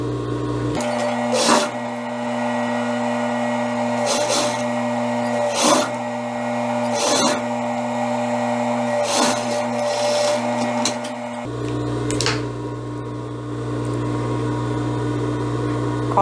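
A sewing machine runs in repeated bursts as a sleeve is stitched into a blouse, with a steady motor hum broken by several sharp clicks. It stops near the end and a quieter hum is left.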